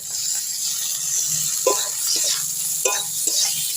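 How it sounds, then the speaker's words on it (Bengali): Spice paste with chili powder and chopped tomatoes frying and being stirred in a pan for a bhola fish curry, a steady sizzle broken by a few scraping stirs of the spoon, close and fairly loud. "এবার ভালো করে মশলাটা কষিয়ে নেব"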